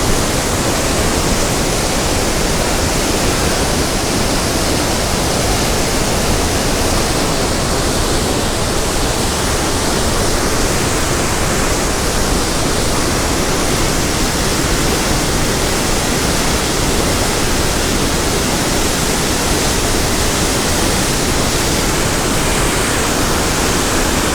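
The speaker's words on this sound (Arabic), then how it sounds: "يعني الماء قريب يوصل، قريب يخرج فوق السور الماء" Swollen Oued Jawahir river in Fez rushing hard, nearly topping its wall after heavy rain: a loud, steady, broadband roar of churning water, close and unbroken throughout with no voices.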